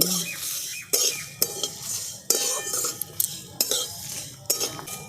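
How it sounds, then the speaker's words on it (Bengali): Whole spices dry-roasting in a pan for raw mango achar, scraped and stirred with a metal spoon in loud clattering strokes over a steady crackling hiss, with occasional sharp pops. "মশলাগুলো ফটফট করে ফাটতে শুরু করেছে"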